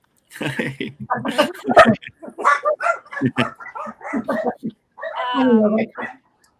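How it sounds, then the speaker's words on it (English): A puppy on a Florida farm barks and whimpers in short yips, loud and close, mixed in among steady talking. "Oh, here's my puppy."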